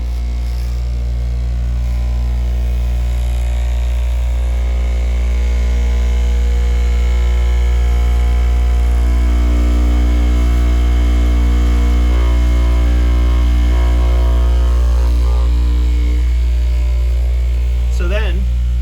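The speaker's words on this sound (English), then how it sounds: "And then we use this industrial cutter to cut along our mark lines" An industrial fabric cutter slices through layered waxed canvas for a workshop apron, with a loud, steady electric motor drone and hum running the whole time.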